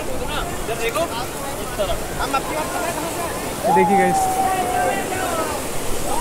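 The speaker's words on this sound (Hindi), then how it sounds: "पानी का बहाव बहुत ज़्यादा तेज़ है" Fast-flowing river water, a continuous loud rushing wash close by, with someone talking over it.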